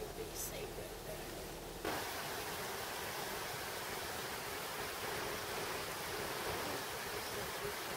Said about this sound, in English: Carefully crossing the creek. Lots of water.